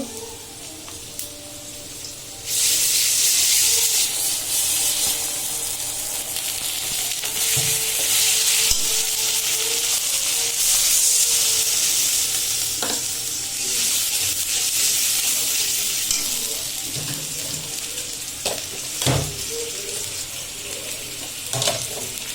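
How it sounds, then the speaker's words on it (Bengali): Ginger-garlic paste sizzles loudly as it hits onions already fried in a pan. A steady, close hiss and crackle continues throughout, with occasional stirring clatter and no talk. "পেঁয়াজটা ভাজা শেষ। এখন এই যে আদা রসুনের পেস্টটা দিব।"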